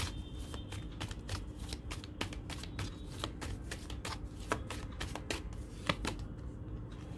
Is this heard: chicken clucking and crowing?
no